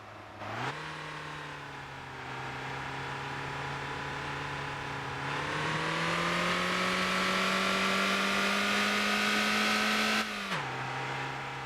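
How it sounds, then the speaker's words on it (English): A car engine in the driving game Motor Town revs and holds a high, whining drone, its pitch climbing in steps as it strains for speed, then dropping back near the end; steady and close, with no voices. "It's really horrible when it's revving up to try and get up to that speed."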